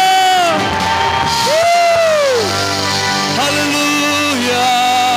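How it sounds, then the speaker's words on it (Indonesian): A church congregation at an Ascension Day worship service shouts and cheers hallelujah together, loud and sustained, with long rising and falling voices in a reverberant hall. "Semuanya sorakan haleluya"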